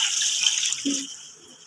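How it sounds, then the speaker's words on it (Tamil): Water runs steadily with a bright hissing rush, poured into a cooking pot with rock salt to boil black chicken, then tapers off toward the end. "தண்ணி ஊற்றி வேக வச்சுக்கலாம்."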